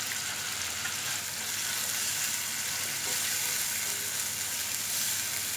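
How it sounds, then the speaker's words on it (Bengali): Chicken pieces and carrots fry over high heat in a pan for a homemade chicken sizzling dish, giving a steady, dense, close-up crackle and hiss with faint stirring underneath. "চিকেনটা 6 থেকে 7 মিনিট ভাজার পর আমি এখানে দিয়ে দিচ্ছি গাজর।"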